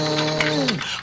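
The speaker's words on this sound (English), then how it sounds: "the vacuum cleaner is supposed to sound like..." Brief whirring hum of a household vacuum cleaner motor with a steady tone that winds down in pitch and stops within about a second.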